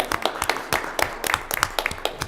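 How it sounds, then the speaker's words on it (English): Applause at a city council meeting: a short burst of sharp, distinct hand claps, fairly close and quiet, with no talk over it. "I'm going to applaud again."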